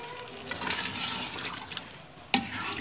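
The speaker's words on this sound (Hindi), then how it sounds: "ये अब इसमें मैं डाल रही हूँ जी ये दूध" Milk poured into a pot of fried spinach and meat for palak gosht, a steady liquid rush that lasts a few seconds and ends with a brief clink.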